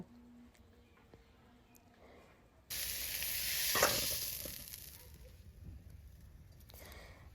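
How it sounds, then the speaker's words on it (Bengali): Potatoes fry in a wok, opening with a quiet stretch and then a sudden loud hissing sizzle that swells and slowly settles, with a few light stirring scrapes. "এটাকে এবার বেশ সুন্দর করে ভাজবো"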